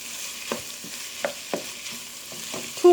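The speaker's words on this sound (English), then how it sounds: "All right, the saute, and then the end I'm gonna add the cabbage." Bell peppers and cabbage sautéing in a pan for chicken chow mein produce a steady soft sizzle broken by several sharp scraping stirs of the spatula, close and alone.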